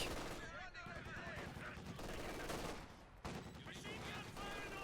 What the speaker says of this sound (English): Flanking machine gun. Katusha firing.